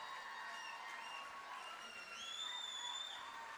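Crowd applause fills a hall at a medical college's silver jubilee celebration in Mangalore, a steady, moderately distant clatter of clapping with whistles rising above it.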